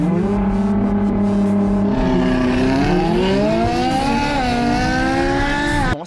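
Ferrari and a 700 cv Nissan GTR launching side by side in a street drag race, loud engines roaring and climbing steadily in pitch through the gears for several seconds, one continuous strained acceleration.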